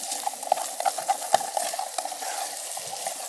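Potatoes are stirred in a small pot on a camp stove outdoors, a steady sizzle with scraping spoon strokes and soft clinks against the metal, close and alone without speech.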